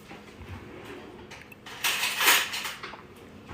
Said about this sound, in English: I'm just gonna get a little fork so we can stir our eggs up with it